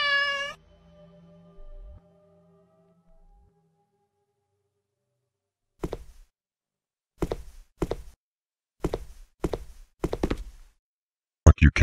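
A cat meows in a Japanese indie horror video game, a short harmonic cry at the start followed by faint low murmurs, then a series of sharp thumping knocks spaced through the rest.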